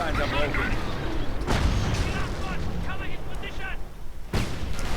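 Gunfire and artillery booms in the wartime strategy video game Company of Heroes, rumbling steadily with sharp bursts under a fast-talking commentator.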